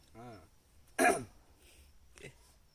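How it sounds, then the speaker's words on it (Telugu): A single sharp cough close by, preceded and followed by brief vocal sounds in an otherwise quiet space. "దగ్గు తగ్గట్లేదు అసలు నాకు"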